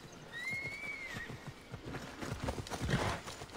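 A horse in Assassin's Creed Odyssey moves at speed with a rapid run of clip-clopping hoofbeats and a brief high whinny near the start, heard fairly close with no speech.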